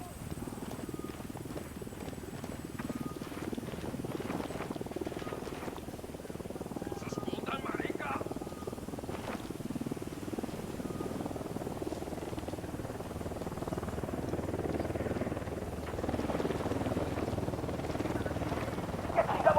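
A patrolling helicopter in the video game Ghost Recon Wildlands, its rotor thrum droning steadily at moderate distance beneath in-game gunfire, clatter and voices.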